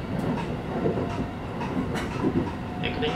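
A Shin-Keisei Electric Railway train runs along the line in Japan, giving a steady rolling rumble with faint rhythmic wheel clatter throughout, fairly close and continuous.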